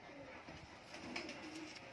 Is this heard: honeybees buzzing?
no